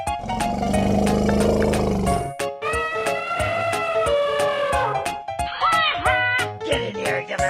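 A loud, tonal elephant trumpet-like call in a 3D animal slide video game with cows, gorillas, hippos and tigers, lasting about two seconds and followed by busy game music with steady percussive hits.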